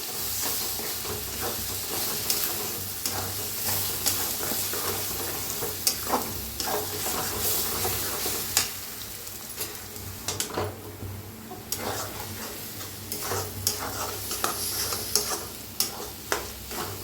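Eggs frying in a pan for fried rice, a steady close sizzle with intermittent spatula scrapes and taps against the pan throughout.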